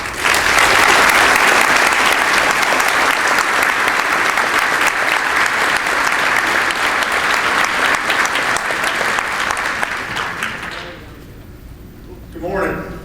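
A large audience at an annual meeting in Korea breaks into sustained, dense applause welcoming a guest speaker, the clapping loud and steady before tapering off near the end, followed by a brief spoken word.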